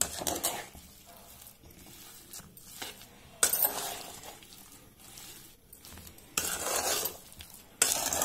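Coconut jaggery syrup being stirred together with ground moong dal in a pan, a soft scraping and stirring with occasional louder bursts of spoon against pan, no talk.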